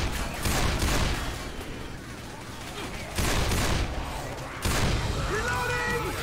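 Gunfire in the zombie shooter Left 4 Dead: dense, continuous volleys of shots in loud surging bursts, with short lulls between, set against a busy game soundscape.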